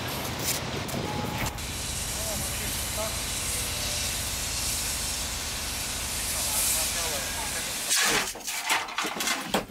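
A steam locomotive on a passenger train bound for Moscow's Rizhsky station hisses steam in a loud, steady rush for about eight seconds, then the roar cuts off, leaving clatter and knocks.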